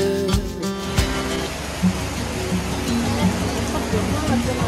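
Steady rain falls in Mayapur, a dense, continuous wash with occasional heavier drops, mixed with music and a voice.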